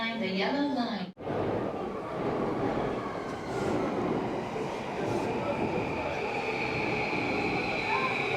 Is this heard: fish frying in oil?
no